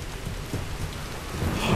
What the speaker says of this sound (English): Is it just me, or is, like, the rain getting heavier?